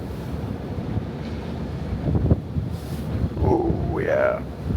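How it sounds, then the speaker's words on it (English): Strong Arctic blizzard wind carries blowing snow and buffets the microphone, making a constant roaring rumble with gusty surges. A person speaks briefly over it. "Just look at the wind coming across here with all the snow in it."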